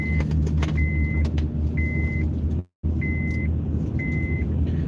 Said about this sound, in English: Don't worry about the seatbelt beeping, guys.